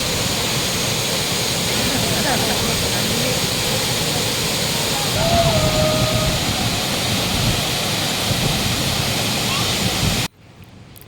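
Balagbag Falls waterfall in Real, Quezon, a loud, steady roar of falling water close by that continues without pause for about ten seconds before cutting off abruptly.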